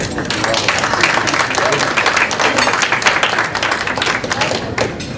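Applause fills a lecture hall as an audience welcomes faculty from theology schools, a dense, loud wash of clapping with distinct sharp hand claps and a few thumps, continuous throughout.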